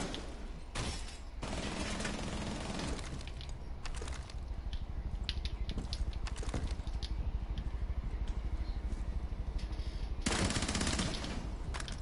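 P90 submachine gun fire in a shooter video game, loud rapid automatic bursts running almost continuously, with brief gaps between strings of shots and no voices over them.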